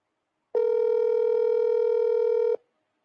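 A telephone tone sounds while a call is placed: one steady, even electronic tone held for about two seconds, then silence.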